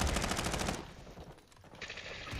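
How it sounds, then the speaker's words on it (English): Gunfire in Call of Duty: Modern Warfare II during a search and destroy match, with loud rapid shots at the start, a quieter stretch, then more firing near the end, and no talk. "Someone's sniping back there"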